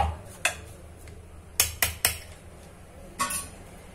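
A spoon stirs a sugar mixture for bakarwadi, knocking against the metal vessel in a handful of sharp, bright clinks, some in quick pairs, with quiet scraping between them.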